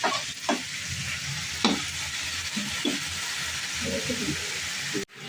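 Water lily stalks fry in a pan after a tempering of dried red chillies, a soft steady sizzle running beneath a few sharp stirring scrapes and clatters, quiet overall and with no talk.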